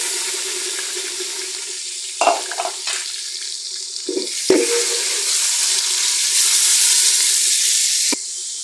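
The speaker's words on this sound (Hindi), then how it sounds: "इसको 2 मिनट के लिए हम फ्राई करेंगे और उसके साथ ही हम चिकन शामिल कर देंगे" Bone-in chicken, 500 grams, frying in a pot at the start of a chicken soup, giving a continuous loud sizzle broken by a few sharp scraping stirs and clatters, with no voices.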